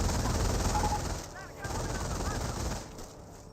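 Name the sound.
MG42 machine gun firing in video game Company of Heroes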